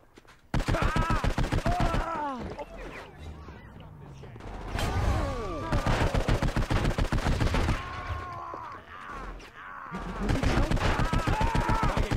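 Gunfire in the Saints Row 4 video game: rapid automatic bursts of shots in several loud, close volleys separated by short pauses, with game character voices talking between and over the shooting.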